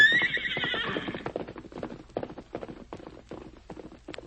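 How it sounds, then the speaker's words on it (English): Silver, a horse in an old-time radio drama, whinnies loudly, then its hooves clip-clop in a rapid galloping rhythm that fades as the horse races away down a hill. "watching his famous horse race down the hill"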